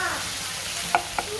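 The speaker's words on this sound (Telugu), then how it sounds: "మిక్సీ పట్టుకున్న పేస్ట్ మంచిగా కలిపేసుకోవాలి" Ground paste is stirred into okra frying in plenty of oil, with a continuous close sizzle and two quick scrapes of a spoon in the pan near the end.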